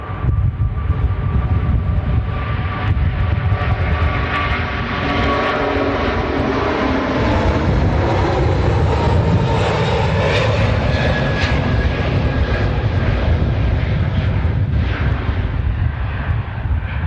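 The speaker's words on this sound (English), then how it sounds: "The Emirates Airbus A380 in the newest livery from Emirates, looking pretty smart, actually." An Emirates Airbus A380 in new livery roars down the runway on takeoff, a loud, sustained jet engine rumble with rising whine that holds steady throughout.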